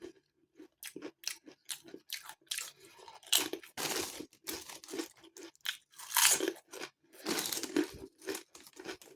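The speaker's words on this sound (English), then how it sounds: "Nice crispy crunch." Close, sharp crunching and chewing of Thai sweet chilli crisps, irregular bites and crackles separated by short pauses, with no speech.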